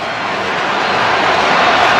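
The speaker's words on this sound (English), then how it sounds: "Crowd starting to buzz again." A Toronto Blue Jays vs Houston Astros baseball stadium crowd buzzes in a steady, dense murmur that holds level and fairly loud throughout, with no single voice standing out.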